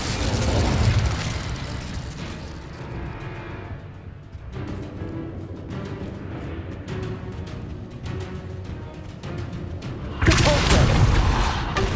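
Incendio fire spell cast in the video game Hogwarts Legacy, heard as whooshing, booming bursts of flame at the start and again near the end, over continuous game music and ambience.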